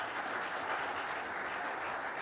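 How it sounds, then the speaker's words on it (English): Continuous crowd applause, dense and even throughout, with no voices standing out. "So another round of applause for Benjamin Banneker and Andrew Ellicott."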